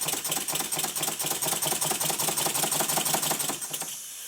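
An old model steam engine with a badly fitted main bearing and a loose crosshead guide runs roughly, a fast, close, clattering knock repeating steadily before it slows and winds down at the end.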